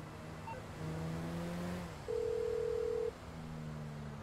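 A phone call is dialed in Grand Theft Auto V: soft electronic tones, then a loud steady tone lasting about a second, over a low engine-like hum.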